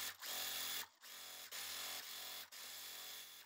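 A sewing machine stitching quilt block pieces runs in steady bursts, each a dense mechanical whir close by, separated by brief pauses.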